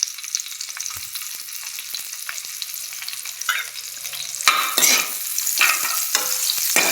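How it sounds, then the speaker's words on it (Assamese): Bay leaf, dried chili and onion fry in hot oil in a kadai, a steady bright sizzle with scraping stirs that grow louder and crackle harder in the later seconds. "কেৰাহীত তেজপাত শুকান জলকীয়া পিঁয়াজ দি অকণমান ৰঙচুৱা হোৱাকৈ ভাজি লোৱা"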